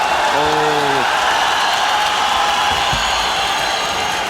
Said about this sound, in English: They see something and they cheer, they know what's coming.